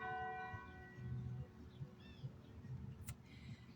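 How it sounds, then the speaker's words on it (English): Church bells ring far off across a town, their sustained tones faint and layered under steady outdoor ambience, with a few bird chirps scattered through. "Do you hear the bells? That's what I'm stopping for."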